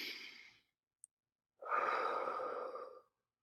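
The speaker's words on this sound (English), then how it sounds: "So in through your nose and out through your mouth," A person breathes in through the nose and out through the mouth, with a soft exhale fading out, a short pause with a tiny click, then a longer, fuller breath lasting about a second and a half, close and quiet.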